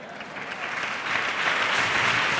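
A church congregation claps together in sustained, dense applause that swells louder partway through and carries on steadily without a break.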